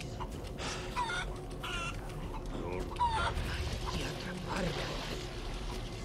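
Chicken clucking inside a village in the Resident Evil 4 Remake, faint scattered clucks mixed into a dense, noisy game ambience with other sounds running throughout.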